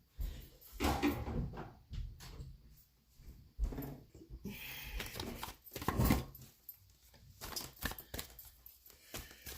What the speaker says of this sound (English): I'm just going to shut my door here.